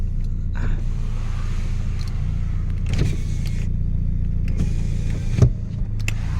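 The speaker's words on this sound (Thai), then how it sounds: "กระจกไฟฟ้าใช้งานได้ครบหมดนะครับ" Power windows on a 2009 Nissan Tiida run in several separate motor whirs, each a few seconds long and ending in a soft thunk, heard up close over a steady low rumble from the car.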